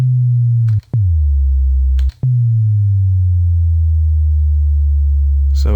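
Synthesized sci-fi tone sliding slowly downward in pitch, sounded three times in a row: two short cut-off sweeps and then a longer steady fall, loud and clean with no talking.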